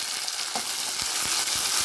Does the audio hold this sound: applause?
no